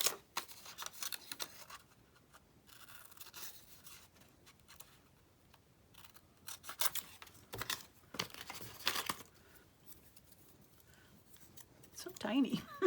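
Scissors snip steadily through a small paper card cut from a desktop calendar, a run of quiet close-up crisp cuts with paper rustling and crinkling between them.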